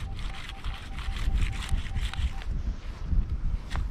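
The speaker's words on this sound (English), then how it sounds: "Very, very windy up here." Strong wind buffets an open hilltop field during metal detecting, a steady low rumble of gusts pressing against the microphone with scraping handling noise on top.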